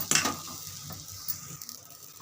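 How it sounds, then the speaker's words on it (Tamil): Coconut being sautéed in a pan for a fish kuzhambu: a loud scraping burst at the start, then a continuous near sizzle and stirring rustle with no talk. "தேங்காய் போட்டு ஒரு வதக்கி வதக்கி வதக்கி எடுத்துப்போம்"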